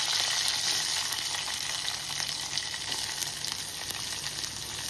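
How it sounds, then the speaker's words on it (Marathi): Mustard seeds, curry leaves and onion sizzle steadily in hot oil for kanda pohe, a constant close frying hiss with no talk. "तेलामध्ये राई टाकूया। आता कढीपत्ता आणि कांदा।"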